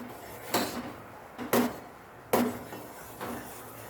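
A spoon stirs amla juice with mace and cloves in a pot over a high flame, giving four separate clanks against the metal spaced about a second apart, close and fairly clear, with no talk.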